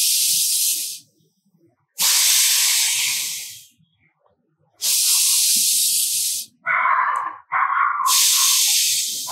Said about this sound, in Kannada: ದೀರ್ಘ ಶ್ವಾಸವನ್ನ ತೆಗೆದುಕೊಂಡು 2 ಬಾರಿ ಬಿಡಬೇಕು